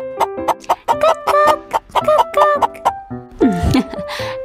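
A voice imitates a chicken with a run of short, rhythmic clucking syllables ending in a rising squawk, close and loud.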